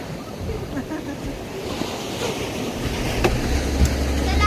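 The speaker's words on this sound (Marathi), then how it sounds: "आता बोट सुरू झालेली आहे आणि समुद्राच्या आतमध्ये बोट आहे" Waves wash and splash around a moving boat at sea off Diveagar on the Konkan coast, with wind buffeting the microphone and a low engine drone rising toward the end.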